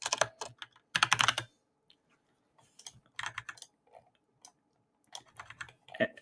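Bursts of typing on a computer keyboard while working in Revit architecture software, with clustered rapid keystrokes separated by short pauses, close and fairly loud, with no talking.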